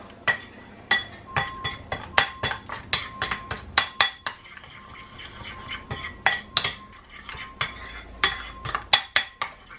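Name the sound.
stirring and mixing ingredients in a cooking pot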